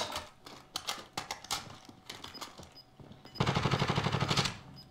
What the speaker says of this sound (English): Down one, being shot from everywhere.